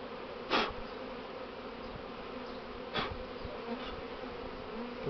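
A honeybee swarm hums steadily at the hive landing board while a swarm is being hived and the queen caught, with individual bees buzzing close past in brief, louder passes.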